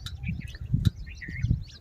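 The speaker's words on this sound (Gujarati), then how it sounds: "જુઓ આ પક્ષીઓ, આ નિરણ ઉપર પક્ષીઓ આવી ગયા છે." Birds chirp and tweet in quick, scattered bursts over a low rumble of background noise, several calls overlapping close by as they feed on scattered grain beside a roadside.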